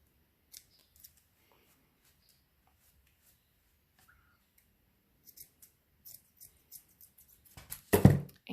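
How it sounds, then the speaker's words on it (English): Scissors cutting close to the end of a yarn pom-pom, a series of soft, quiet snips that grow denser and louder toward the end, ending in a cluster of close crunchy cuts. "I'm just gonna reach in and I'm gonna cut it close to the end,"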